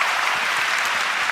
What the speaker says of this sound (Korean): 박수 칠 거면 한번 치시고